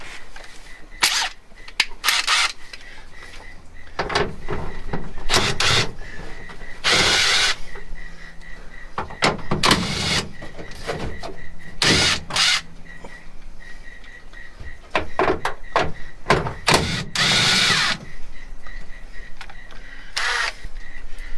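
An impact wrench fitted with a 10mm socket works on a Mitsubishi Lancer CE, firing in short loud repeated bursts separated by pauses and quieter handling noise.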